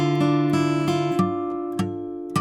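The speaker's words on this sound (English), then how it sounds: "or you can play the riff that I taught you, which sounds like this." Fingerpicked acoustic guitar riff from the outro of a song, clear ringing plucked notes with several distinct attacks, close and alone.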